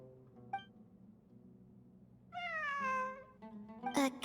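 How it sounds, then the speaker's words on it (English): A cat meowing in a video game, a faint short call first, then a louder, drawn-out meow and a final sharp cry over quiet background music. "It really is a cat."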